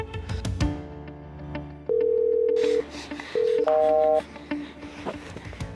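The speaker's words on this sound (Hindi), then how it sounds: "उसको फोन मिला" Telephone keypad tones beep in short steady bursts, a few long held tones among faint background sounds, close and fairly loud, as a phone number is dialed.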